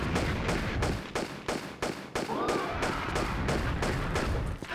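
Lara Croft's guns firing in Tomb Raider, a steady, rapid run of loud shots, roughly a dozen evenly spaced bursts, close and continuous with game noise between them.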